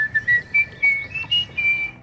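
Someone whistles a short, jaunty melody, clear and close, with bouncy rising and falling notes like an old-timey sea shanty.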